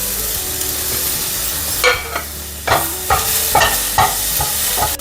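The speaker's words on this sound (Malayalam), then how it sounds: "നേരത്തെ അരിഞ്ഞ് വെച്ച തക്കാളി നമുക്ക് ഇട്ട് കൊടുക്കാം" Chopped tomatoes sautéed in a pan for mushroom masala, a steady sizzle broken by several sharp stirring scrapes and clacks in the second half.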